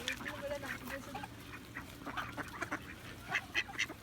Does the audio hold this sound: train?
no